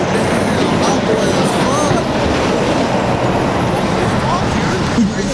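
A semi truck approaching on a road during night street drifting with a 350Z crowd, a loud continuous rumble of heavy traffic noise with voices talking over it.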